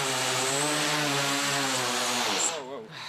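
A hoverboard's jet engines roar loudly and steadily below full throttle, with harmonic tones that then dip and waver as the power drops off near the end.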